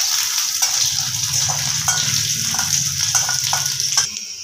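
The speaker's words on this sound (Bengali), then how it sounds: "পেঁয়াজটাকে একদম ভাজা ভাজা করে নিতে হবে।" Chopped onions sizzle loudly in hot oil in a pan after a kalonji tempering, a steady close frying hiss with occasional stirring scrapes.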